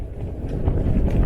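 Gale-force wind buffeting a tent while wild camping on Dartmoor, a loud low rumbling roar with gusty surges and flapping close to the microphone.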